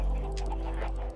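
Chickens clucking in the video game Minecraft, a flock kept in a storage pen, heard as a soft continuous cluster of clucks over a low steady hum, with no talk.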